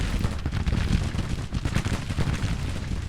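Dense, continuous crackling musket gunfire with booming low cannon rumbles in the Civil War video game Grand Tactician, a chaotic battle barrage of rapid overlapping shots and blasts that never pauses.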